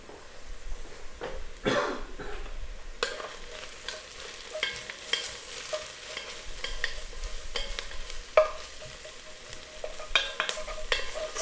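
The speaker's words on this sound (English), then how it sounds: "Clean up my workstation here, and then I'll give that a stir." Onions frying in olive oil in a pan while a chickpea and sweet potato curry is cooked, stirred now and then: steady close sizzle with intermittent scraping and clinking of a utensil, no talk.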